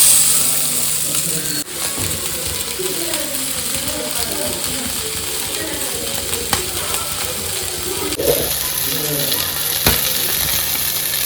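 Mackerel fish frying in coconut oil in a large pan, a loud, continuous close sizzle with a few faint clinks and scrapes over it.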